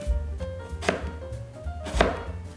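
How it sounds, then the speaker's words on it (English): A knife chops through a pear on a cutting board, with a few distinct, close thuds spaced unevenly apart and no voices. "Are you jealous that I'm chopping the pear and you're not?"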